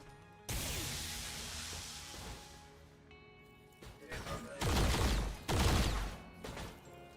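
Gunfire in XCOM 2: a sharp blast followed by a long decaying rumble, then a cluster of heavy bursts and impacts toward the end, with quiet gaps between.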